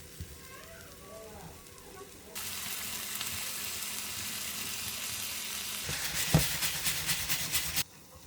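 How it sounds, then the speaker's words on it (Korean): Spinach and egg stir-fried in a pan make a steady sizzle that grows louder as stirring begins, with scraping clatter of a spatula toward the end. "그 팬에 시금치 넣어 숨 죽을 때까지 볶아주세요."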